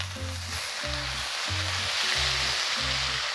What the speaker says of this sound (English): Now what we're going to do is hit it with some Shaoxing wine, the good old cooking wine,